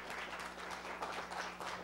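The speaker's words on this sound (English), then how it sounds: "let's give him a big round of applause" Audience applause in a university lecture hall fills the whole stretch, a steady dense patter of many hands clapping at moderate volume with no speech.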